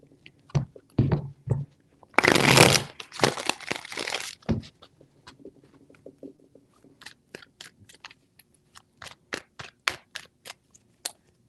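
Riffling card shuffles: a dense burst of fluttering snaps, followed by a run of sharp, separate clicks as cards are squared and dealt.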